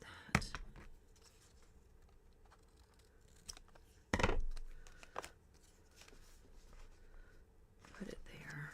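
Scissors snip through a paper belly band in a few quick, close cuts, with soft rustling and handling noise around them and quiet talk nearby.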